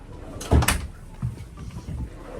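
A drawer on a Tiara Yachts 43 LS opens or closes with one sharp thud near the start, then a few softer knocks and rattles, close by and moderately loud.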